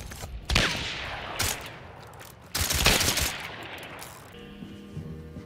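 Several loud gunshots ring out in Hunt: Showdown, a western-style shooter, with distinct sharp reports spaced apart and echoing tails, the last fading into a quieter ambient tone.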